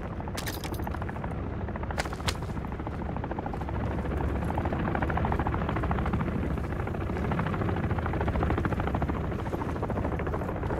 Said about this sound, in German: Der Kampfheli lässt nicht ab.